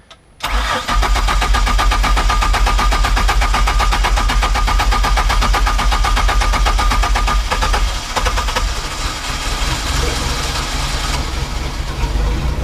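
A Mercruiser 4.3 boat engine cranks briefly, then catches and settles into a loud, steady run that holds close up for the rest of the stretch, with no voices.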